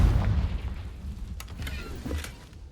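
A Confringo fire spell explodes in the video game Hogwarts Legacy, a heavy low boom that rolls off gradually with faint crackling debris afterward.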